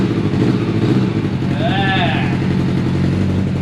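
Engine of a barn-find Suzuki Bandit 650S motorcycle with a seized clutch running close by, a loud, steady rumble with a brief rising and falling whine in the middle, and people talking over it.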